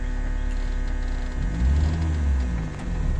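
A car pulling away in first gear during a driving lesson, the engine rumbling low and swelling briefly as it accelerates close by, heard from inside the car.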